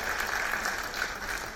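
An audience applauds a speaker at a conference session. Brief, muffled, fairly faint clapping forms a steady wash throughout.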